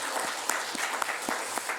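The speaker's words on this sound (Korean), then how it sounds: "하나님께 우리가 영광의 박수로 열정적으로." A church congregation claps enthusiastically during Sunday worship, with sharp, rhythmic applause filling the room throughout.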